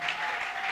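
Church congregation clapping and cheering in worship of God, a dense continuous roar of applause without pause.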